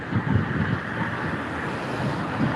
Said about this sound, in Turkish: burası ırmak böyle sakin göründüğüne bakmayın. Debisi, akışı fazla arkadaşlar.